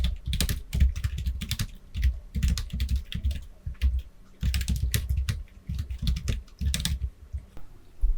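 Caption text is typed on a computer keyboard, bursts of rapid, close key clicks broken by short pauses, loud and alone without speech.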